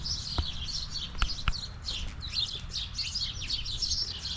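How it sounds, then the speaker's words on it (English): Sparrows chirp in a backyard garden, a busy scatter of quick, high tweets from several birds close by, with a few soft knocks underneath and no talking. "the sounds of the birds all around, which makes sparrows one of the most important birds to me"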